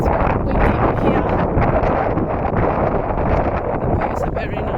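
Strong wind buffets the microphone at Blue Lake in Plenty Gorge, a steady loud broadband roar with rustling gusts throughout and no clear break.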